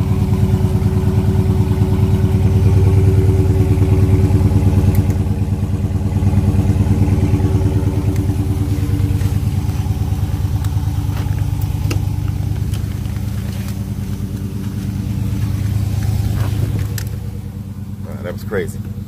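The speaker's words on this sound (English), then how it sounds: "that was a cold start challenge for Burnsy" A Dodge Charger Daytona 392 V8 idles on a cold start with a steady deep rumble and clatter, holding fairly loud throughout before easing slightly near the end.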